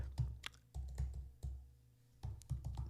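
A few close bursts of computer keyboard typing as an email and password go into a sign-up form, with soft clustered key clicks, a brief pause, then more keystrokes.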